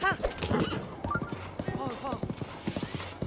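A horse trotting in a Zelda game on the Nintendo Switch 2, quick hoof clip-clops with a brief whinny, close, under a person talking.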